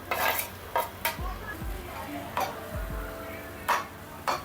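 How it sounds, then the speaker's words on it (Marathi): Grated potatoes are stirred into peas cooking in a pan over medium heat, giving a series of spaced scraping strokes and light clinks of a spoon against the pan over a soft background sizzle. "मिक्स करून घेऊया छान मटारमध्ये बटाटे"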